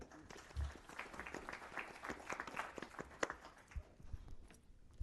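Audience applause at a state government commission meeting, a dense patter of clapping that fills the room steadily for several seconds.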